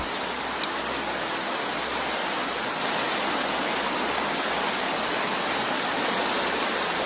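Heavy rain falls in a dense, unbroken hiss in the wild, a constant close downpour with no voices or other sounds breaking through.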